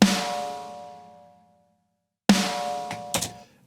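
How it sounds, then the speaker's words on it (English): Slaughterhouse Slam snare one-shot sample, a sharp crack with a long ringing decay, struck once and then again after a pause, followed by two quicker hits, alone and close. "So here is the infamous Slaughterhouse Slam snare one-shot sample."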